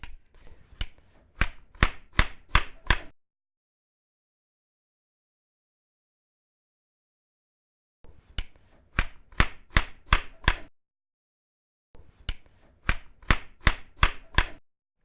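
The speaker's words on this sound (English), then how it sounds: "Chopping them up into little pieces here." A knife chops food sticks into little pieces on a cutting board in three quick bursts of rapid, crisp taps with silent pauses between them.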